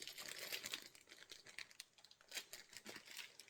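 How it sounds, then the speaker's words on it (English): Crinkly plastic bag holding a small cardboard box of spare fuses for a UNI-T UT39C multimeter, opened up close with a steady run of dry rustling and crackling that swells and fades over a few seconds. "Open the plastic bag, get it out"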